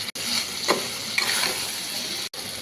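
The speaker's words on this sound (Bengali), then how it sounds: "এবার ভাজা চিংড়ি মাছগুলো দিয়ে ভালো করে একটু কষিয়ে নেব।" Fried prawns are stirred into a cooking masala in a pan for prawn malai curry, giving a steady close sizzle with scraping spoon strokes and brief pauses, no voices.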